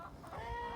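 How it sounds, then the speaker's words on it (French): Hens in a vegetable garden cluck in a brief, soft, continuous murmur with no talk over it. "Ah, les poules nous font un petit concert."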